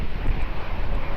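A jet airliner roars steadily on its takeoff roll at Lisbon Airport in gusty wind, a loud, continuous engine rumble heard alone.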